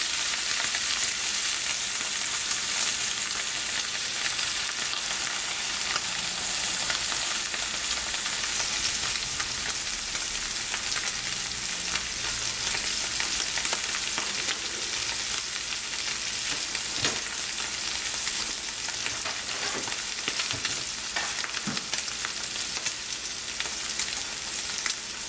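Loud, continuous sizzling of a New York strip steak searing in a hot pan on a stovetop, crackling and spitting steadily with occasional sharper pops and no talking.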